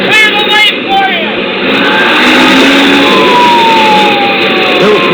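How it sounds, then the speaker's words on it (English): Wailing police and fire truck sirens from a 1950s–60s radio drama sound effect, loud and continuous with rising and falling tones over a roaring truck engine, while voices speak over it. "Phil floored the gas pedal and pulled out in front, sirens screaming, red lights flashing"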